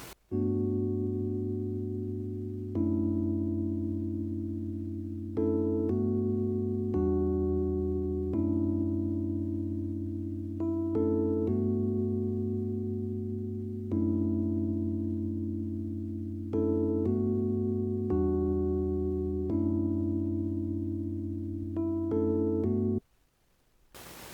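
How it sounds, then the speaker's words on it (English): Mellow electric piano chords, dry and sustained, changing every few seconds in a steady progression, played alone without other instruments. "the electric piano sounds like this"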